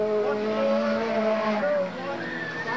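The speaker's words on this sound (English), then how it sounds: "Now Sprague moving up on slower traffic." Superstock race cars roar around the Eugene Speedway oval in a 1987 main event, engines droning loudly and continuously with a rising whine and some tire squeal, while a commentator talks over the racing.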